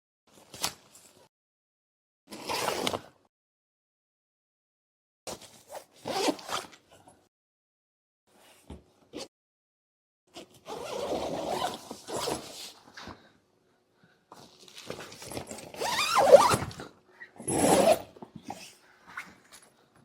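Zipper pulled open in several separate bursts on the fabric side walls of a Themis hard shell roof tent, each quick rasping run close and clear, with quiet pauses between.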